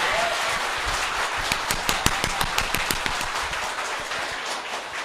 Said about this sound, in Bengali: এইবার তালিটা হ্যাঁ নিজের জন্য দিয়েছি